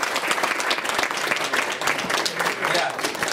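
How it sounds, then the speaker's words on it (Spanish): An audience applauds a speaker at a technology conference talk on solid-state drives, with dense, continuous clapping from a crowd filling the room. "un fuerte aplauso entonces para José Luis Fernández."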